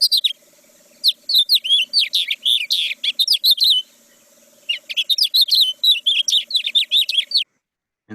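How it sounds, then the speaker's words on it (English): A house finch sings a bright, rapid warbling song, two long bursts of quick chirpy notes separated by a short pause, clear and close. "And this is the house finch."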